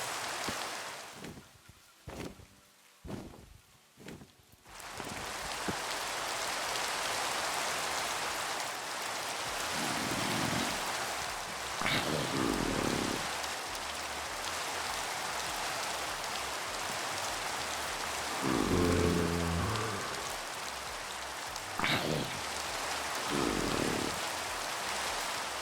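Steady rain falls in Minecraft as a constant hiss of drops on surfaces. A few soft in-game sounds and brief thuds break through here and there, with no talking.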